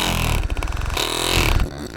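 A Hypervolt GO massage gun runs at its third speed setting, giving a loud, rough buzzing motor drone with a wavering, uneven pitch, close up and alone.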